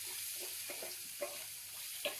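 Egg upma vegetables, tomato, masala powder and salt frying in a pan while being stirred: soft sizzling under a series of scraping spoon strokes, with a couple of sharper clinks, quiet and close.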